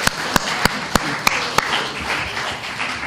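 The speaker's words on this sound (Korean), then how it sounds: "박수 한번 치고 갈까요?" Crowd applause at a party convention rally speech in Busan, a steady wash of clapping with several sharp, loud claps standing out in the first half, continuing without talk.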